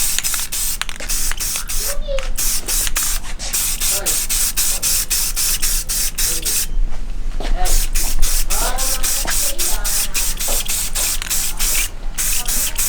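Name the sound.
rattle can spray painting wheel faces with Rustoleum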